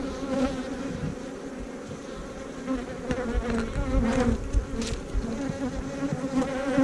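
A dense, continuous buzzing of many honeybees around an open, queenless hive, close by, steady and loud throughout with individual insects droning past.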